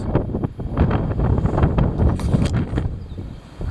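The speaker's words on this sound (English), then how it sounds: "The heavy wind." Heavy wind gusts roar and buffet close to the microphone, a loud, continuous rush with uneven swells and no voices.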